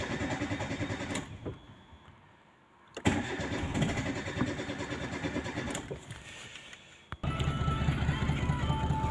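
A car engine is started after a starter repair: it cranks and catches into a steady running rumble, cuts out briefly, then fires up again near the end and keeps running loudly and close by.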